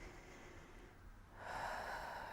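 A single deep exhale through the mouth during a birth preparation exercise with slow hip rolls, a soft breathy rush rising in the second half and close to the mic, with no talking.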